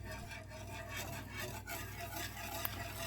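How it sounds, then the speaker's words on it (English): Egg yolks from pullet eggs being stirred quickly and constantly in a pan for banana pudding, a continuous soft scraping and swishing with a faint steady hum underneath. "I am constantly stirring rather quickly the egg yolks"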